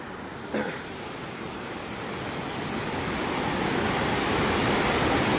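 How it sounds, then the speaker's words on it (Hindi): Swollen floodwater of a river roars steadily and loudly, a dense continuous rush that builds slightly over the few seconds with no voices. "देख पा रहे हैं कितना भयंकर पानी है"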